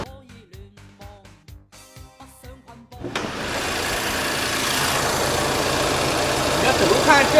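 An Audi car engine with worn, sagging engine mounts starts abruptly and then settles into a loud, steady, rough idle that continues to the end.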